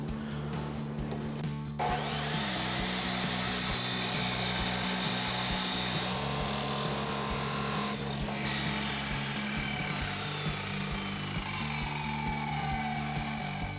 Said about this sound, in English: so now we're over at our chop saw and we're going to cut this down